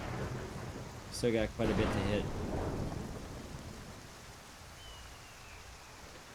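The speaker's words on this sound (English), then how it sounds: "That was cool. The lightning hitting." Thunder and a lightning strike in the Skyrim video game, a sharp crack followed by a rolling rumble over steady rain-like noise, with someone talking over it.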